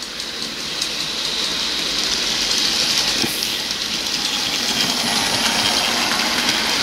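A Bachmann Class 64xx pannier tank model locomotive pulls a load without wheel spin, giving a steady, close motor whir and hiss with faint rail clatter and no talking.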